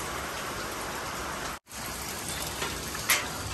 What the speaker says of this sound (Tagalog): wala pa rin tigil yung ulan.